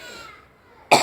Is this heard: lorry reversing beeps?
no